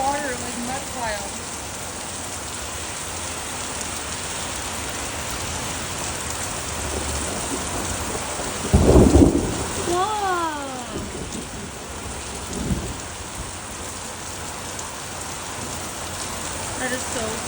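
Heavy downpour drums steadily on the ground throughout, with one loud, close thunder crack in the middle and a fainter rumble shortly after; a few bird-like chirps sound briefly.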